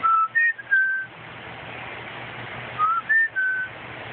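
A bird at the Dallas Zoo whistles two clear three-note phrases a couple of seconds apart, close and bright, with a quiet murmur of background noise between them.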